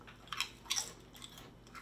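Someone bites into a light, sweet and spicy corn chip up close, giving a few sharp crunches spaced across a quiet moment with no talking.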